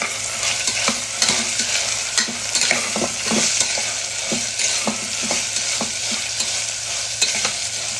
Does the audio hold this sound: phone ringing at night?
no